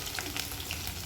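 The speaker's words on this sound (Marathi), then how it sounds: "आणि हे चॉप केलेला लसूण आहे तो घालायचा." Chopped garlic with asafoetida and cumin frying in hot oil, a faint, even sizzle with light crackle throughout.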